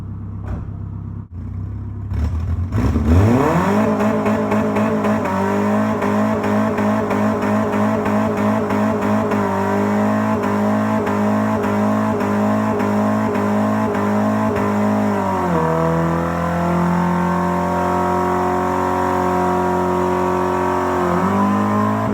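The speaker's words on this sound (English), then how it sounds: "I'm gonna do a burnout real quick" An automatic Nissan S13 with a single-cam engine does a burnout: the engine starts low, then revs up hard and holds a loud, steady high-rpm roar, drops briefly, and climbs again, close and alone.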